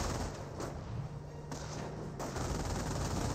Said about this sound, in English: Tiger squad now seeing a bit of fire there from the MQ-42.